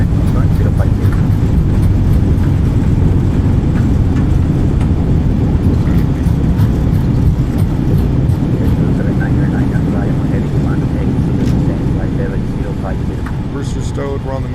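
An Airbus A320 (A32NX) airliner in a flight simulator rolls out after landing with thrust reversers deployed, giving a loud, steady broadband roar of engine and rumble that holds for the whole stretch without letup.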